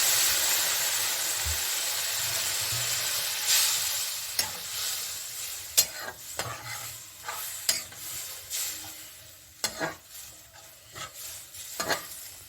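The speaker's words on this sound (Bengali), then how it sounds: "এখন এখানে আমি অল্প জল দিয়ে দিচ্ছি।" Hilsa and spinach sizzle loudly in a pan, a bright steamy hiss that settles as water goes in, followed by repeated scraping and clattering stirs at close range.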